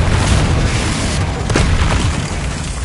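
A loud, rumbling Confringo fire spell explosion in Hogwarts Legacy, a continuous booming roar with small pops sitting inside it.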